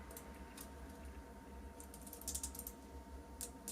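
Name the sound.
Citizen dive watch unidirectional bezel clicking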